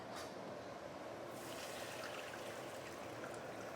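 Hot water being poured into a cooking pan, a steady soft trickling and splashing flow that runs continuously at low level with no talking.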